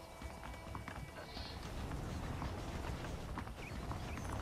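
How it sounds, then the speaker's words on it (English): Horses' hooves clip-clopping in the video game Red Dead Redemption, a steady run of hoofbeats under game music and ambience, with talk over it. "The horses are saddled up over here."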